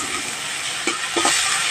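Chopped onion sizzles in hot oil in a pan while cooking a curry of katla fish tail with potato and eggplant. It is a steady, close frying hiss with a few soft clinks of a stirring utensil.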